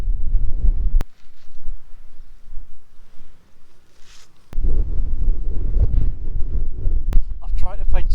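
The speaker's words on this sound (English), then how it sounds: "I want to try and find somewhere that's a bit sheltered so I can get my bait on before I pitch my tent, because it's so windy" Strong wind buffets the microphone on an exposed hillside in the Simonside Hills, Northumberland, a loud roaring rumble that surges and dips in gusts, with occasional sharp knocks and brief voice-like sounds near the end.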